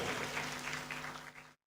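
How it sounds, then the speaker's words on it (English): Graduates at a congregation ceremony in a conference centre clapping together, a dense sustained round of applause from a large crowd that cuts off abruptly near the end. "Clap for yourselves."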